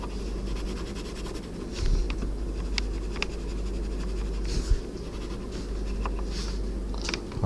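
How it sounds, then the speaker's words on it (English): A pencil draws along a ruler on paper, a soft continuous scratchy rasp with faint repeated strokes and small taps, close and quiet with no talking. "So I'm going to use the ruler to help me stop going over the edge. Keep the pencil going in the same direction."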